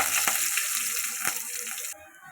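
Curry leaves drop into hot oil already tempered with dried red chillies, giving a close, bright crackling sizzle with a couple of sharp pops before it cuts off abruptly.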